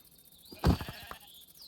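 A single sheep bleat from a Minecraft modpack game, short and fairly close, standing alone over quiet background ambience.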